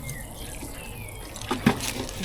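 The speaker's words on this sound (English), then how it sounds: "I'm just going to give it a little bit of a water, just because it's absolutely bone dry." Water pours onto bone-dry allotment soil outdoors, a steady soft rushing splash with a few louder splashes and gurgles near the end.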